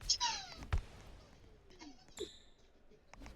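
A Roblox cat character meows in a few short, high cries, with soft game clatter between them.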